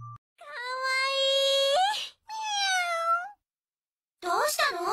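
A cat in an animated series gives two long, drawn-out meows in a row, clear and close, with a brief voiced sound right at the end.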